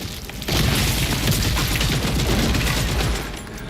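Dense, continuous gunfire from Gears of War: E-Day, a loud sustained barrage of rapid booming shots that swells in and holds for several seconds before easing off.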